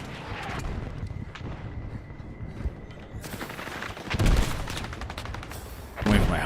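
Battlefield 6 gunfire, with scattered shots and sharp bursts that thicken into heavier volleys and booms in the second half, steady and fairly loud with no talk over it.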